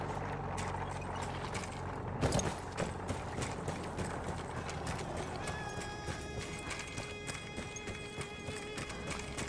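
In the Battlefield 1 war story chapter Nothing Is Written, a horse's hooves clop in irregular steps across the ground. A whinny and a sharp thump sit near the start, set against a steady rumbling game ambience.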